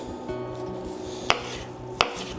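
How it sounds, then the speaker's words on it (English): A knife chops fresh parsley and green onion on a cutting board, giving soft rapid taps with two sharper, louder knocks standing out, close and alone without talk. "So now I gotta cut up all of my fresh herbs for the crab cakes. I'm doing parsley and green onion."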